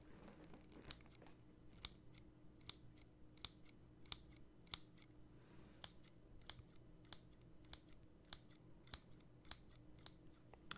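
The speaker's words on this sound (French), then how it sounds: "Mon ciseau il fait pas beaucoup de bruit, malheureusement." Scissors snip steadily through paper or card packaging, a long run of crisp, sharp, close clicks at an uneven pace in a quiet room with no voices.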